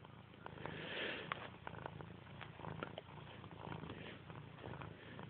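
A gray cat purring close to the mic, a continuous rhythmic rumble with soft breathy pulses and faint sniffing, steady throughout.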